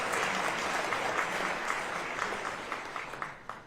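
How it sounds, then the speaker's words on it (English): An audience at a university State of the University address claps in a sustained burst that thins into scattered final claps. "you need to give me a big round of applause for UNR"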